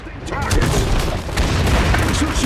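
Mortar fire and explosions in the Iron Harvest strategy game make a dense, loud rumble of booms and blasts, with a voice speaking over the barrage.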